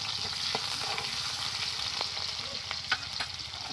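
Chopped onions fry in mustard oil with a steady, fairly quiet sizzle and an occasional light stir or tap against the pan.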